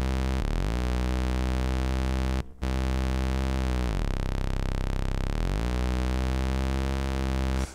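A steady, bright drone from IK Multimedia UNO mini synthesizer oscillators being retuned, pitch sliding down and back up several times, with one brief dropout partway through; loud and continuous, no voices.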